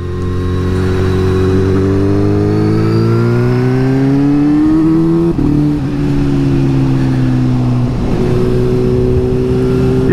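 A Suzuki GSX-S750 motorcycle being ridden, its inline-four engine droning loud and close as revs climb smoothly through the gears, with a brief dip at a shift and steady wind roar underneath.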